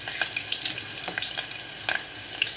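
Garlic sizzling and crackling in hot oil in a pan for Marathi-style amti, with steady frying hiss and occasional sharper pops and stirring clinks, close and moderately loud, no talking.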